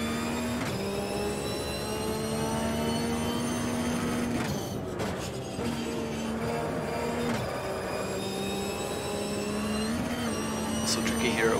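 A Boxer Cup race car in the Automobilista sim game screams down the fast back stretch at Lime Rock Park, its engine holding a sustained high drone with brief gear-change dips, while someone talks over it.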